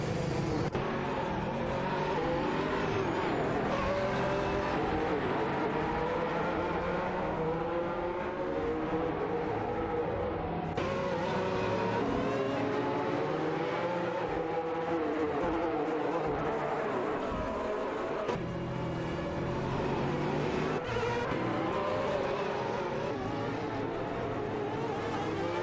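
Racing cars tear past on a racetrack during a race, a dense, continuous roar of engines with swelling and fading passes, loud and sustained throughout.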